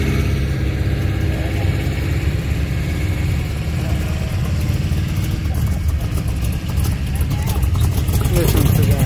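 A Plymouth car engine runs at a hot rod cruise night, a steady, loud rumble that continues throughout beneath people talking nearby.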